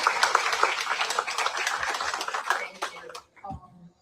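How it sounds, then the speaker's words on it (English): An audience at a talk on the Deux Branches crisis in Dominica claps for Karen, a dense burst of close applause that thins out and stops near the end. "let's give a round of applause to Karen"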